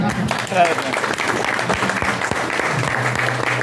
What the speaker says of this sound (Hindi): तालियां जब तक ज्यादा नहीं बजेंगी हम करेंगे